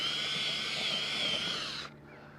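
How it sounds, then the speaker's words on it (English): Soil auger boring into garden soil for parsnip sowing, giving a steady high whine that runs for about two seconds, then stops. "This is a soil auger that I'm using."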